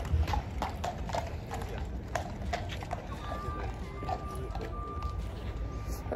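Horse hooves clip-clop steadily along a street in Paris, a continuous rhythmic trotting amid busy outdoor city noise and passing traffic.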